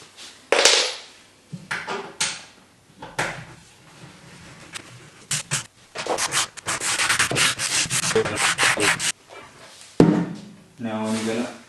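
Power tool driving screws while IKEA ALEX drawers are assembled, short whirring and rubbing bursts with taps and knocks of wood and parts between them, close by.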